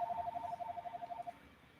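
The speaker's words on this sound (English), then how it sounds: "Oh, that could be my phone." Phone ringing indoors, a repeating electronic warble pulsing rapidly for just over a second, then cutting off; moderately quiet, with no talk over it.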